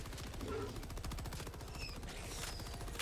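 Fully automatic weapon firing in Helldivers 2, a rapid, steady stream of shots running the full length at even volume over game ambience.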